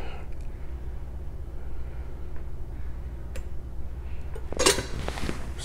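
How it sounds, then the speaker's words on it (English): A Kouhei Shinmatsu ZDP-189 black bunka knife, 200 mm, is let fall and cuts under its own weight, making one brief, faint clack near the end over quiet room tone with a few small ticks. "I let the knife go. The sheer weight of it pushed it through."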